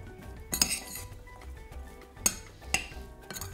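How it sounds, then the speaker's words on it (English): A bacon, bean and herb salad gently stirred in a bowl, with soft scraping and a few sharp clinks of a utensil against the dish, close up and with no talking. "So we're going to give that all a gentle stir."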